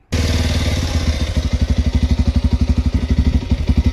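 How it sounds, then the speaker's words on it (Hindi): A Bajaj Pulsar 125 motorcycle engine idles close by with a steady, rhythmic low thumping pulse after it catches. "ये इसका आइडल साउंड है।"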